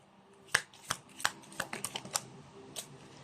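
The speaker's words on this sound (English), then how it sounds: "let's shuffle it again." Tarot cards are shuffled by hand close up, a series of sharp, crisp riffles and slaps coming in an irregular burst of about a dozen quick hits in a quiet room.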